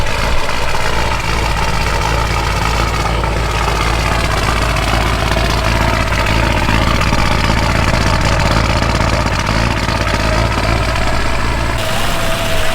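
Rally car with a 2 litre turbo engine idling nearby, a loud steady rumbling drone with a constant low throb and no speech.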